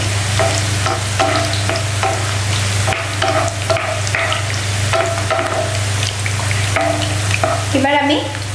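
Onions fry in a pan for a chicken curry with a continuous close sizzle and hiss, broken by scraping stirs and clatters of a utensil over a steady low hum.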